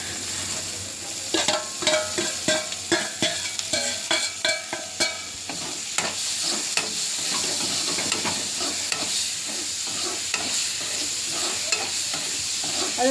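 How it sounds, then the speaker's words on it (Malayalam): Onions sautéing in a pan for egg curry: a loud, close sizzle with rapid rhythmic scraping and knocking of a spoon stirring through the first half, then a steadier frying hiss with occasional clinks. "ഉള്ളി ഒന്ന് വഴണ്ട് കഴിയുമ്പോൾ നമുക്ക് തക്കാളി ഇട്ട് കൊടുക്കാം."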